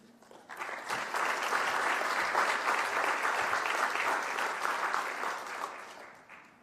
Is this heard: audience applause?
yes